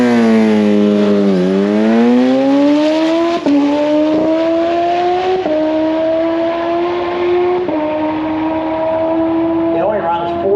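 A 2018 Kawasaki Ninja H2 SX SE motorcycle engine, loud and close, revs up through four rising pulls with brief dips at each gear change, a strong droning tone climbing steadily; a voice is present alongside.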